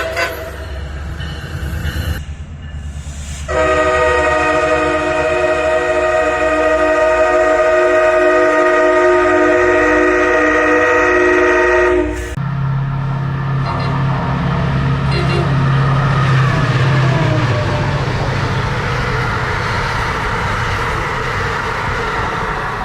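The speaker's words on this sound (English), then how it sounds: "MARC's MP36 uses a Nathan Airchime C5A-CWP horn. Here's what it sounds like." A Nathan Airchime C5A-CWP horn on a MARC MP36PH-3C passenger locomotive sounds a long, loud, steady chord. It cuts off into the rumble of the passing train, with a low droning engine tone that follows.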